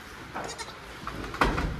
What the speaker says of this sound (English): Essentially all the murdery goats.